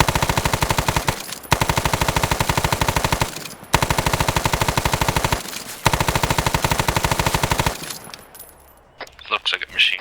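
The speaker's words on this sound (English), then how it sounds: "I'm getting hit by a machine gun north." Machine gun fire in the Arma video game comes in long, rapid, loud bursts separated by short pauses, followed by a few scattered fainter shots at the end.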